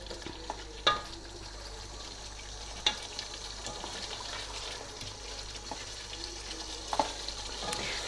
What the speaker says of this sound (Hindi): चिकन को हमेशा बहुत प्यार और मोहब्बत से चलाते हैं